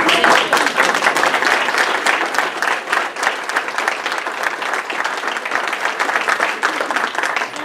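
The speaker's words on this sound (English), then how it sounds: "And they deserve applause, ladies." Warm applause from a Rotary club audience honoring host families, many hands clapping close and steady for several seconds with dense, uneven rhythm and no speech over it.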